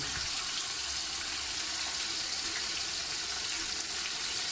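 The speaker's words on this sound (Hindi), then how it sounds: "अब मैं टमाटो को इसके साथ भूनता हूँ।" Tomatoes frying with beef and ginger-garlic paste in a pot produce a continuous, even sizzle with watery crackle, fairly quiet and with no voices.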